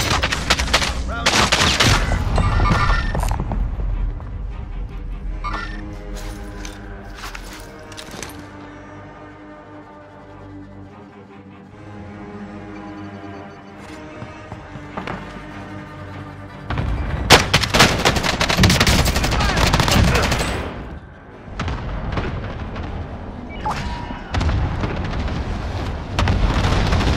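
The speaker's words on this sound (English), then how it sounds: "friendly precision airstrike inbound" A video game battle, with heavy airstrike explosions and bursts of gunfire at the start and again later, rumbling booms in between, and game music and radio chatter in the quieter middle stretch.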